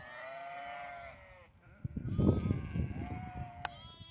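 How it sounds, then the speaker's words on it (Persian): A large flock of sheep, around 700 head, bleats in a mix of overlapping calls, some sustained and some short, close and fairly loud, with shuffling and low rustling from the animals underneath. "همینجا هست 700 تا گوسفند،"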